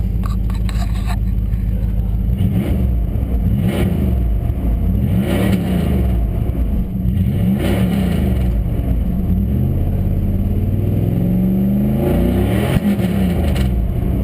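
A 1999 Dodge Durango engine idles steadily after a cold start, a close, continuous low rumble with a rough, pulsing character and slight revs throughout, with no talking over it.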